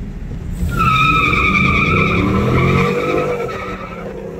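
Pontiac G8 with an aftermarket OBX exhaust spins its tires in a loud, sustained squeal of several seconds, high shrieking tones layered over a deep engine roar, close by, fading near the end.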